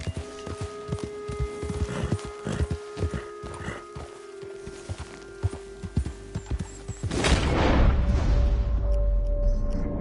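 Horse hooves clip-clop at a steady walking rhythm in Red Dead Redemption 2, close and distinct, before a louder rushing ambience swells in over the last few seconds.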